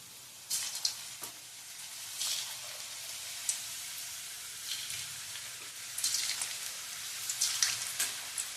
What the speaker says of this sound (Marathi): अगदी मंद गॅसवर हे आपण तळून घेणार आहोत